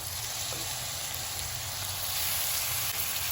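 Half a kilo of washed mutton sizzling in hot oil in a pan with ginger and garlic, a steady, even frying hiss that holds for the whole stretch with no voices.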